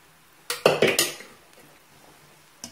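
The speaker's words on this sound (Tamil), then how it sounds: "இப்ப நம்ம நல்லா கிண்டி விட்டுலாம்" Amla rice stirred in a pan, with a quick burst of four or five metal utensil clanks against the pan, then quiet and one more faint knock at the end, no voices.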